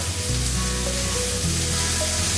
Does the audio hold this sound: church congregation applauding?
no